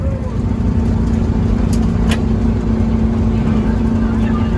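Turbocharged golf cart accelerating on a test run, a loud, steady engine drone with a sustained low hum holding across the whole stretch, with faint voices underneath.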